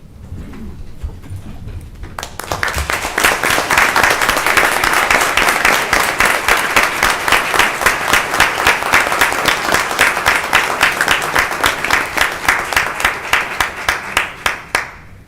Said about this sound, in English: join me in commending and applauding our emergency medical team